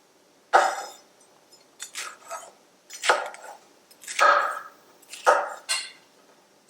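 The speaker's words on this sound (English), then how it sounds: "Now I'm just going to chop up my peppers, just a rough chop." A knife roughly chops peppers on a cutting board for homemade marinara, six or so firm, separate thumps and scrapes in an uneven rhythm, close and clear with no talking.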